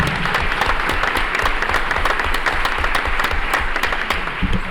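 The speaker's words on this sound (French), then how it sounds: "On applaudit rapidement, me dit Louis, mais bien sûr." Conference audience in a plenary session hall applauding, steady crowded clapping that continues at full strength throughout, fairly loud and close, with no speech over it.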